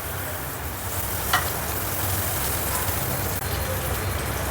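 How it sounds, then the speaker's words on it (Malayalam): Butter sizzling in a hot pan for paneer butter masala, a steady close hiss and crackle throughout with one brief clink partway. "ഇനി ഒരു പാൻ ചൂടാക്കി അതിലേക്ക് ബട്ടർ ഇട്ട് കൊടുക്കാം."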